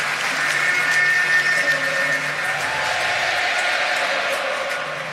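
Yankees fans at a baseball stadium playoff game roar and applaud in a broad, steady crowd swell that holds for several seconds and slowly fades a little at the end.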